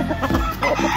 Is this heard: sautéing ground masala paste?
no